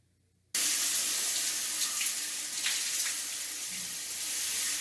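Water runs steadily from a shower in a campground shower house at Marquette Tourist Park in Marquette, Michigan. After a brief quiet moment it switches on abruptly into a strong, continuous hiss and splash that stays loud and close.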